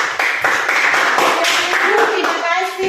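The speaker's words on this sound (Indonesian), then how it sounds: "berikan tepuk tangan untuk kelompok 1" Audience at a church group presentation clapping for the first group, a brief burst of dense hand claps with a voice speaking over the clapping.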